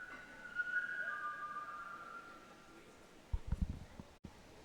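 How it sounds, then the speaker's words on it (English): A whistle sounds in the background at a high school swim meet: a faint sustained tone fading over about two seconds, followed by a few muffled knocks and bumps nearby. "And whatever that whistle sound you heard in the background"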